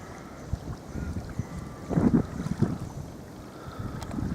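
A boat comes in close, its low churning rumble swelling with wind gusts and water sloshing in uneven bursts.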